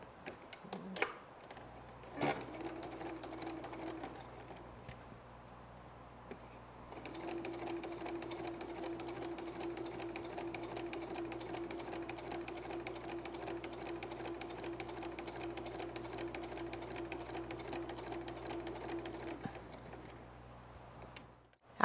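After a few soft clicks and taps, a sewing machine stitches quilt diagonals in black thread, running in a steady rapid rhythm with a brief pause before the longer main run, close and moderately loud, ending with faint handling noises.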